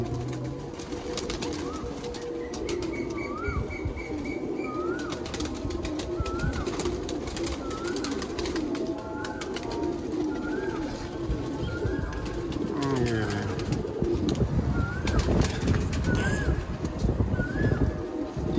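Pigeons kept by a fancier in Haripur, Hazara coo over and over across a busy outdoor backdrop, their repeated rising calls clear against steady background noise, with no flapping evident.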